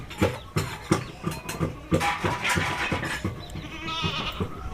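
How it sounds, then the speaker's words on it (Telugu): Goats on a rural homestead in cool, rainy weather, with bleating mixed among a series of sharp knocks and shuffling sounds nearby, no speech. "మేకలు ఇంకా ఇడవలే."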